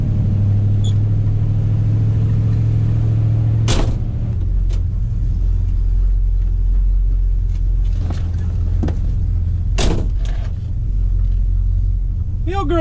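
A warm 1966 Dodge Monaco 500 with a 440 V8 idles in a deep, steady low rumble throughout, with a few brief clicks and knocks and a short bit of talk near the end.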